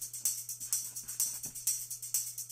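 Tambourine with a short, dark room reverb, a steady rhythmic pattern of bright jingling hits with brief tails, moderately quiet over a low constant hum.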